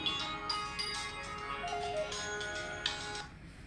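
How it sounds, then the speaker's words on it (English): Phone ringtone for an incoming call chiming in a workshop during a battery tray install, a repeating electronic melody of bright tones heard moderately near over a steady background hiss, with no talking. "I got a phone call."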